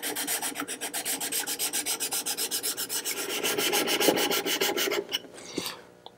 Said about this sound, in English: What's nice about this method is you are using the entire length of the sharpening stone.